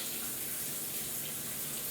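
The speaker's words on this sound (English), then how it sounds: "Look at the water running away in that." Steady, broadband hiss of water pouring from a shower and draining across a walk-in wet room floor, continuous and even for the whole stretch, with no talking.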